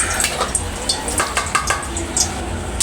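Spoon stirring sautéing ingredients in a pan for ginataang tilapia, with a steady sizzle broken by soft, irregular scraping clicks close by.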